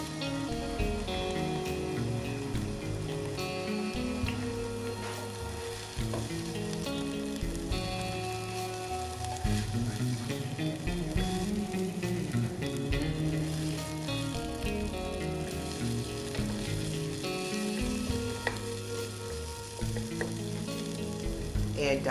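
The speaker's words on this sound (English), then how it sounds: "Add chopped onion to the skillet and cook until lightly brown." Chopped onion fries in bacon grease in a skillet with a loud, continuous crackling sizzle, broken by occasional stirring scrapes, and no one talks.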